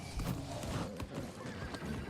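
A horse in the video game New World neighs and its hooves clip-clop steadily, close and fairly loud against a busy game soundscape, with no talk.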